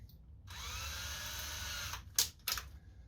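Power drill boring holes in small wood pieces for 8mm dowels, held in a small vise, a steady sustained whine running alone and close for about a second and a half, then a few short bursts near the end.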